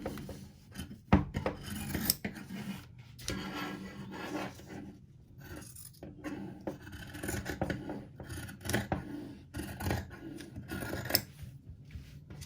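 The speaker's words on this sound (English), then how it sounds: "You just want to bring your scissor all the way down" Scissors cut through fabric for a reversible hobo bag in long strokes brought all the way down, giving a series of close, rasping snips and slides separated by short pauses, with no talking.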